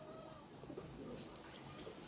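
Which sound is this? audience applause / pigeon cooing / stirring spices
pigeon cooing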